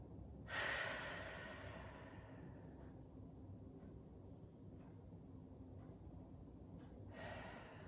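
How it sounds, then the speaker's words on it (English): A slow, deep breath drawn in during a wide-leg hip stretch in a yoga-style session, a broad airy rush that fades into quiet, then a second soft breath at the end. "take a couple deep breaths there."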